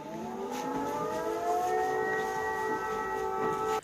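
An air-raid siren sounds a prolonged, somber wail that rises slowly and holds steady and loud, alone in the clip.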